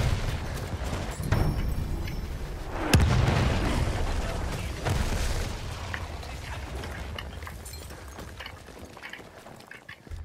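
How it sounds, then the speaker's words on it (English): Enemy artillery barrage in the World War I shooter Battlefield 1: a steady roar of battlefield rumble and crackle, broken by a heavy close boom about a third of the way in and a softer blast shortly after, then fading slightly. "Wait for the enemy artillery barrage to stop firing."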